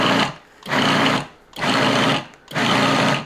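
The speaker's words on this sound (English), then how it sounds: "I don't think I could run a kitchen without a food processor." A food processor blends stuffing for zucchini shells in short bursts: three loud whirring pulses of about three quarters of a second each, separated by brief pauses, heard alone up close.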